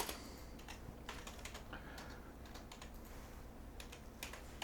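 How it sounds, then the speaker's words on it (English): Quiet, steady keystrokes patter on a computer keyboard in uneven bursts, close and soft with a faint background hum. "I'm going to type in"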